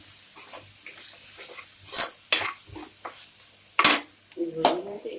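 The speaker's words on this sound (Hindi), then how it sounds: "इसको हम भून लेंगे अच्छे से।" Potato dosa filling is stirred and fried in a pan, with a few sharp spoon scrapes and clinks against the metal over a quiet, low sizzle.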